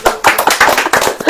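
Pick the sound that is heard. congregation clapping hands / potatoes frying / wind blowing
congregation clapping hands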